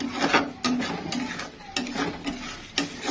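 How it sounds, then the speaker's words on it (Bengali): Spice masala being stirred and fried in oil for palak paneer, a close, scraping rhythm of spoon strokes against the pan every half second or so over a steady sizzle, with no talk. "তেল দিয়ে মশলাটা কষাচ্ছি।"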